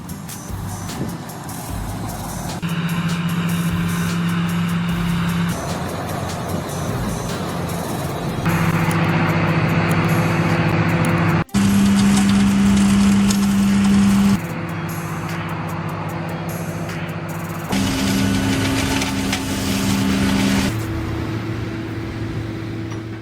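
Tomato harvesting machinery and trucks work a field, with a steady, loud engine drone whose pitch shifts in distinct stages as the machines change load. No voices are heard.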